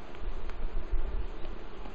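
Honeybees in a top bar hive being moved and handled, giving a steady low droning hum that stays close and continuous throughout, with no talking.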